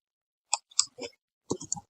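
Mouse clicks while modelling a revolve in SolidWorks 2022 CAD software: a handful of sharp, close clicks in an irregular rhythm with short gaps between them, and no voices.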